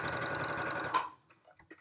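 A small travel sewing machine back-stitches fabric for a Yup'ik qaspeq in a steady, rapid mechanical whir. It runs for about a second, then stops abruptly, leaving a few faint clicks and handling noises.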